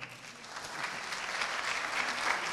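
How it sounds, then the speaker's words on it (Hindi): An audience at a live ideas festival session with Nawazuddin Siddiqui bursts into sustained applause, a dense wash of clapping that builds slightly and carries on without speech. "सहमत हो तो तालियां बजाएं"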